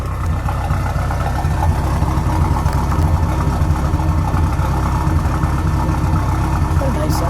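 A 1980 Ford Fairmont Futura Turbo four-cylinder engine idles steadily close by, a low, even rumble that holds constant throughout with no revving.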